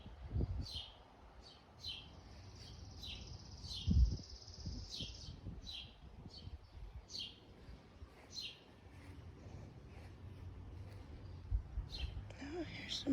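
Wild birds at backyard feeders, with repeated short high chirps and tweets scattered across the whole stretch, faint and fairly close, while low rustling and handling noises sit underneath.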